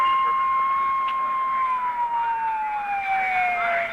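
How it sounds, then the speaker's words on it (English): Ambulance sirens wail continuously after a 1978 tornado in Huntsville, a steady rising and falling tone that slowly drifts lower as the vehicle passes, loud and alone. "All available ambulances in Huntsville are now dispatched to the tornado scenes."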